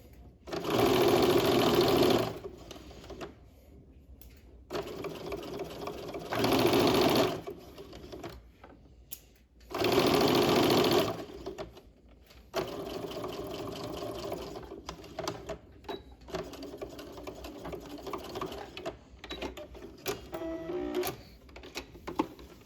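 A sewing machine stitches a curve on a slashed pocket in three loud, steady bursts of about two seconds each, with quieter handling and fabric noise between the runs.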